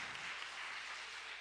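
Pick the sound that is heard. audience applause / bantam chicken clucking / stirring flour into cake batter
audience applause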